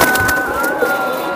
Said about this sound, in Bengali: এই যে দেন কম দামের ভিতরে সুন্দর কবুতর